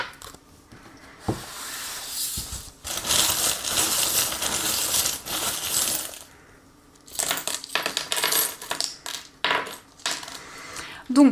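Metal charms shaken and cast for a tarot reading, a loose jingling clatter of small trinkets in bursts with short pauses between, close and fairly loud.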